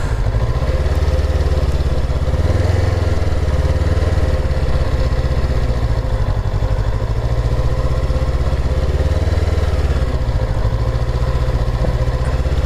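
A motorcycle rolls along at a very slow pace, its engine holding a loud, steady low rumble close by with slight swells in the throttle and no talking.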